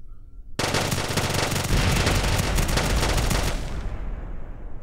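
A Vulcan rotary cannon fires in one long, continuous, buzzing burst during a BD Armory weapons test in Kerbal Space Program. The burst starts abruptly, stays loud and dense for about three seconds, then trails off into a fading rumble.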